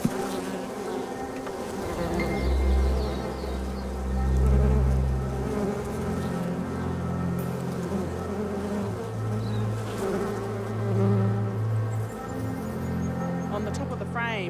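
Honeybees buzzing at a beehive kept by Maori beekeepers, a dense continuous drone of many bees swelling and fading close by, with a voice talking over it.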